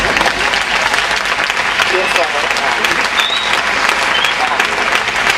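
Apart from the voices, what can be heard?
audience applause for the hunchback character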